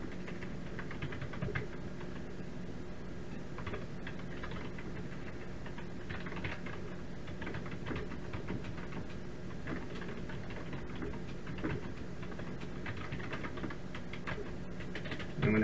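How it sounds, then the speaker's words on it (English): Steady, fairly quiet clatter of keys as a program is typed on a Commodore 64 keyboard, continuous light tapping with a constant low hum underneath and no talking. "just type it in real quick here to show you what it does"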